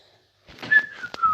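A person whistles a short, clear, slightly sliding tone, close and fairly quiet, after a brief silence and mixed with soft background clicks.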